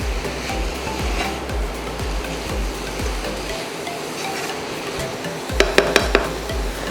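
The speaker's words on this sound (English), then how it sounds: "the gochujang is in, we're just gonna stir fry it" Gochujang mixture stir-fried in a pan for kimchi fried rice: a steady sizzle and hiss with scraping and stirring, ending in a few quick clinks of a utensil against the pan.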